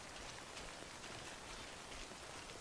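Rain falls in Death Stranding as a steady, even hiss of drops with no breaks. It is quiet and continuous, and no voices are heard.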